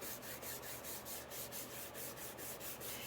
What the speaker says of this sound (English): And now you just burnish it on